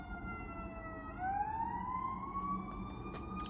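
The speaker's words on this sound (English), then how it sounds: "you can hear there is an ambulance going by" An ambulance siren passing by in town, a steady wailing tone that sweeps upward and holds, heard from a distance through the room over a low background rumble, with no talking.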